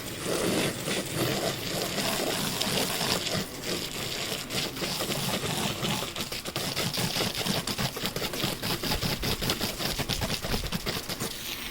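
A drone bag with zippers is drenched with spraying water from a hose, a steady broadband hiss with crackling splatter as the stream strikes the fabric, loud and continuous throughout.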